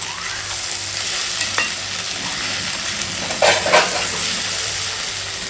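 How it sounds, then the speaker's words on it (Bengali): Onion dal, a sour lentil dish, simmers and fries in a pan, giving a steady close sizzle. A spoon stirs it, with a few scraping strokes around the middle of the clip. "এই যে আমার ডাল পেঁয়াজের ডাল হচ্ছে টক ডাল পেঁয়াজের ডাল"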